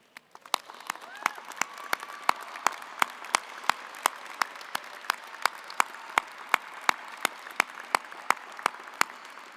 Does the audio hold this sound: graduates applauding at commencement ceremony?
yes